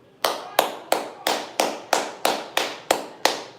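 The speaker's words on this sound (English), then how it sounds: "I got to clap it up for them boys real quick." One person claps hands alone in a steady rhythm, about ten sharp, close claps spaced roughly a third of a second apart, each with a short decaying tail in a quiet room.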